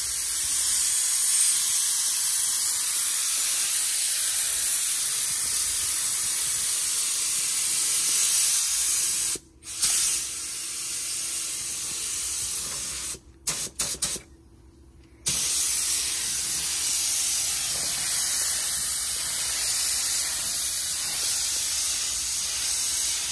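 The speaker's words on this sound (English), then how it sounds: "when you're spraying it, you have to hold your hand at a certain distance from the vehicle because you don't want the paint to run" Spray gun painting the body of a Tesla Model 3, a loud continuous hiss that cuts out briefly a few times between passes and then resumes, with no voices.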